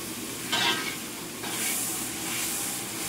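Potatoes frying in a pan, a steady soft sizzle with brief louder hissing bursts as they are stirred, fairly quiet and without talk.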